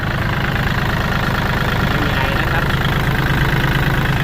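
A Kubota L4018 tractor diesel engine idles with a steady, loud low rumble and even throbbing pulse, continuous throughout.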